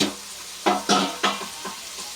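Cabbage fries in a pan for a cabbage and egg masala curry, a soft steady sizzle broken by several close scraping stirs at irregular intervals.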